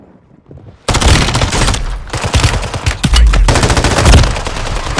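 Rapid automatic gunfire from a shooter video game, with loud, dense bursts of machine-gun shots running almost continuously after a brief quiet start.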